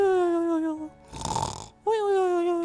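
A sleeping cartoon character lets out one raspy, noisy snore that lasts about a second, framed on both sides by sustained, voice-like tonal sounds.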